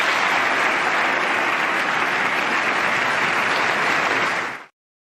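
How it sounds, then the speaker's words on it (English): Members of Congress applaud a speech on Afghanistan, dense, steady thunderous clapping filling the room for nearly five seconds before cutting off abruptly. "a lot of thunderous applause"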